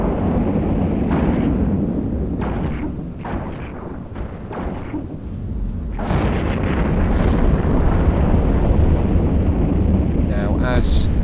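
Heavy ship guns firing at targets in the EVE Online space game, a series of deep booming blasts with rumbling bursts spread across the clip, sharper reports toward the end over a steady low drone.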